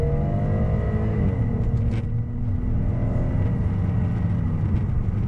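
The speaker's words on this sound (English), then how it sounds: "when you put your foot down and the car starts going" A 2017 Kia Cadenza Premium V6 accelerating at highway speed, its engine note rising in a steady rumble beneath continuous road and wind noise, heard from inside the cabin.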